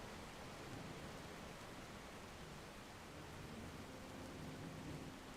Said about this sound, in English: hopefully the rain stops